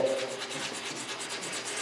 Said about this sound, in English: so you're going to want to sand it down a little bit.